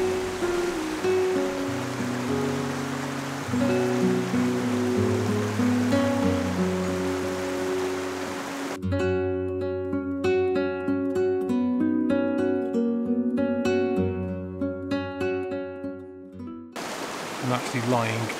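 River in the Lake District rushing steadily close by for the first half, a constant broadband wash of flowing water, then giving way to music.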